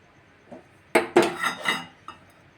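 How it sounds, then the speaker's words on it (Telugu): A few hard metallic clanks as a pot is set down and shifted on a stove, close by, with short pauses between. "స్టవ్ అయితే ఆన్ చేసుకుంటున్నా, గిన్నె పెట్టుకొని."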